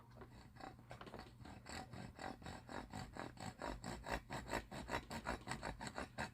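Steady back-and-forth rasping of a survival knife sawing through wood, rhythmic strokes about three per second, close and fairly quiet.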